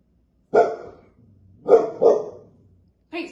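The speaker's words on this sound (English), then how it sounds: "Yeah, that's our dog." A dog barks in four loud, close bursts: two separated barks, then a quick double, then a final bark, with quiet gaps between and no talking.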